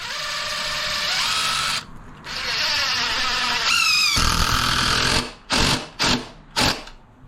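A power drill driving screws into a wooden board, a loud close whine that rises and falls in long bursts, then several short trigger pulses near the end.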